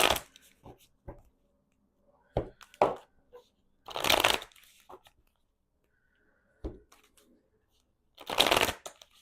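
Tarot cards shuffle in several short riffling bursts with quiet pauses between them, close and crisp, as a voice talks softly in the gaps.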